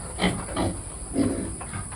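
Pigs on a pig farm grunt and squeal in short bursts, several close calls over a steady high-pitched electrical whine, with no one talking.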